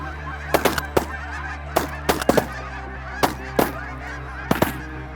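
Geese honking in bursts of several loud calls, close by during a waterfowl hunt, with steady low background noise throughout.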